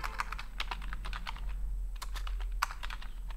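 Quick keyboard typing as an address and nearby landmark are entered into an online business listing form, an uneven run of close, crisp key clicks with short pauses over a low hum.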